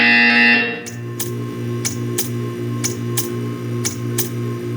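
A steady electronic buzzer in Portal 2 holds at first, then gives way to a low droning hum marked by regular sharp clicks, about one per half second.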